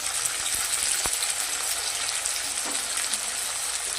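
Chopped tomato sizzles in a pan with onion, green chilli and a bay leaf, giving a steady, close, even frying hiss with a few soft stirring knocks and no talk.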